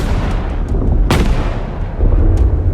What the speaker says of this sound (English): Two more loud explosions followed as the other cannon fired.